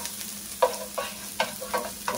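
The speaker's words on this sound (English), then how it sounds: "you want to quickly saute the garlic." Three cloves of chopped garlic sauté quickly in a pan, a soft sizzle broken by about five distinct scraping stirs of a utensil, close and unaccompanied by speech.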